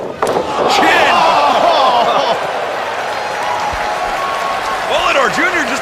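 A packed Ring of Honor Supercard of Honor wrestling crowd roars and cheers loudly and continuously, with shouts and chants rising and falling throughout and voices talking over the din.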